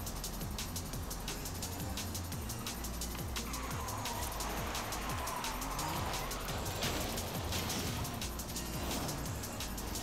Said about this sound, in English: I know how to drift, see?